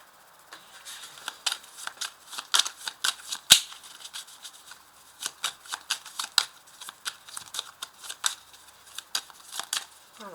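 Tarot cards being shuffled and drawn by hand, a quiet, close run of crisp flicks and snaps in an irregular rhythm, with one sharper tap partway through and a soft background hiss.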